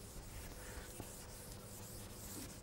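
Writing is rubbed off a board during a maths lecture on birational geometry, giving a faint, steady brushing scrub with no talking.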